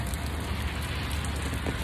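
Rain falls steadily on surfaces beside an old train on a wet day, a dense, even hiss of drops with no pauses throughout.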